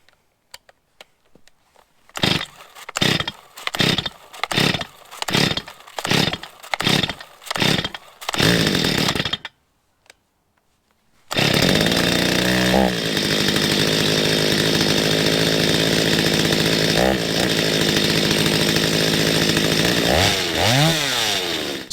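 Stihl chainsaw with a newly replaced starter pull cord: about eight rapid pulls in a row, a short silence, then the engine catches and runs loudly and steadily nearby, with a few throttle revs toward the end.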